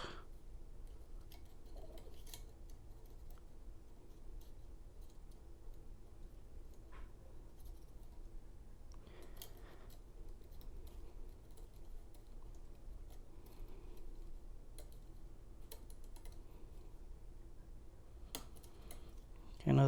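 A Lishi pick works the pins of a Kia Sephia car lock, giving faint, sparse small clicks and ticks against a quiet background, with no talking over them.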